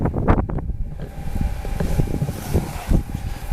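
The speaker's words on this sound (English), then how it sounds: "the wind is just coming up right now" Wind gusts outdoors beside a fire being set alight, buffeting the microphone in uneven rumbling bursts, fairly loud and close, with no speech.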